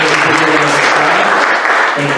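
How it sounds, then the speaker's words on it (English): An assembly audience claps for first-time attendees, a brisk, steady burst of applause filling the room for about two seconds, with a sung or hummed tone and voices faintly underneath. "Can we give them some claps?"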